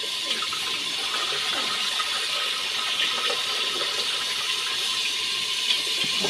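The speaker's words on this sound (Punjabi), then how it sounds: "ਮੈਂ ਚਾਵਲ ਧੋ ਲਵਾਂ ਇੱਕ ਵਾਰ" Rice is washed under running tap water in a home kitchen, a steady, continuous gush of flowing and splashing water with no pauses.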